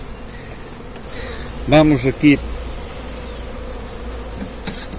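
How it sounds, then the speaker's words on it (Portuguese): Honeybees swarm densely in an open hive packed with bees, a steady close buzzing throughout, with a person speaking briefly over it. "está cheinho de abelhas."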